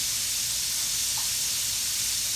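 Steady, loud sizzling hiss of catfish frying in hot oil, continuous and close throughout.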